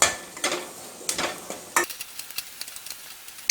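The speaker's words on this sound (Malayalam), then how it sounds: "ഇതൊന്ന് നമുക്ക് വഴറ്റിയെടുക്കണം" Onions sautéing in a pan for green peas curry, quiet sizzle broken by several sharp scrapes and clinks of a spoon stirring against the pan, close by.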